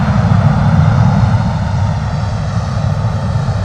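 An Embraer jet takes off from London Stansted Airport with a heavy, continuous low-pitched roar that stays strong and close and eases off slightly toward the end.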